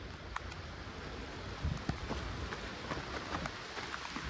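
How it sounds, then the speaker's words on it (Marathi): Steady broadband rain noise with wind buffeting the microphone, a continuous wash with a few louder gusts and no talking. "यो आला पाऊस आले काय जोरात"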